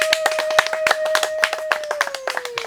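An audience claps at a comedy event: scattered, fairly regular hand claps ring out over a steady sustained tone that slowly drifts lower.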